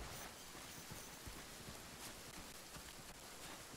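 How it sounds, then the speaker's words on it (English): Steady rain falls in the video game Monster Hunter World Iceborne, an even, close hiss of pattering drops that continues unbroken and fairly loud throughout. "Hey, it's raining."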